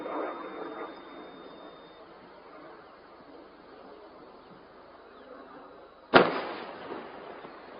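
During a missile attack on Israel, a low rumbling hum fades slowly, then one sharp, distant explosion booms and dies away. The boom is isolated, with no talking.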